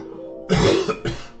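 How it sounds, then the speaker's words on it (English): A single harsh cough close to the mic, breaking into two bursts, with no talking around it. "Once again, I apologise for the coughing."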